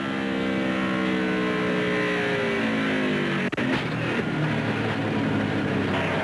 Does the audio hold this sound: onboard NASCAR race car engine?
yes